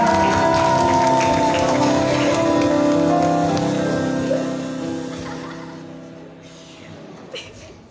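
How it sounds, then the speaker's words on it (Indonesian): A church congregation applauds Sunday school children, a dense steady wash of clapping over sustained music that thins out and fades toward the end. "Kita beri tepuk tangan yang meriah untuk anak-anak sekolah minggu kita."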